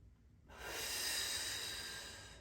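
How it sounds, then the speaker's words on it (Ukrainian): A single long, breathy exhale during a seated office stretch, rising abruptly after a short silence and fading slowly; close and soft. "І вдих. видих. І вдих."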